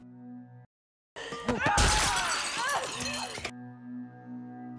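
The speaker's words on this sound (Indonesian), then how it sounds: "Suhana mendorong Salim ke kaca hingga terluka parah." Glass shatters loudly as a person is shoved into it during a violent fistfight, a dense burst of breaking and clinking shards that lasts about two seconds and cuts in after a brief silence, with a soft tonal background before and after.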